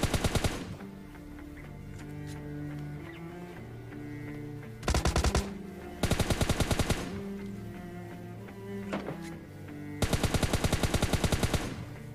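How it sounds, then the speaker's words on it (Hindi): Automatic weapon fire in the mobile shooter PUBG Mobile Lite, with several sharp bursts of rapid shots at irregular intervals over a constant background of game ambience. "अब यहाँ पे मैं बॉट फायर देने लगता हूँ"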